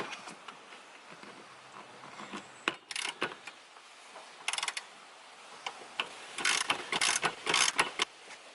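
A ratchet wrench tightens a self-locking nut on a Drake strut tower brace being fitted to a 2018 Dodge Charger, giving bursts of rapid clicking separated by quieter pauses, close by with no talking.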